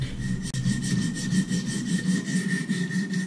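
Rhythmic back-and-forth scrubbing of a knife blade against the stones of a Wicked Edge precision sharpener, a steady rasping stroke repeating roughly every quarter second, close and alone.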